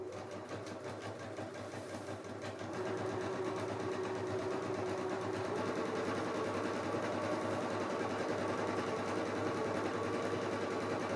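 A sewing machine stitches an apron bodice to its skirt with a steady, rapid mechanical whir, quiet and close. It speeds up slightly after a few seconds and then runs continuously.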